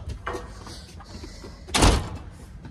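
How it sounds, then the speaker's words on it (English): A door is pushed shut during a family outing at home, giving one loud, close thud-like bang with a short rattle partway through, after a stretch of quiet room noise. "Close the door."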